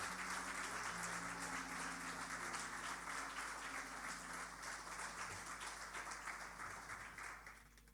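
Applause fills a church congregation for about eight seconds, a steady wash of many hands over a low hum, then tapering off at the end.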